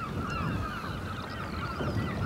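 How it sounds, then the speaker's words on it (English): A noisy flock of thousands of black-headed gulls calling over each other, a continuous chorus of harsh cries and squeals with no pauses. "Mostly all black-headed gulls, I think"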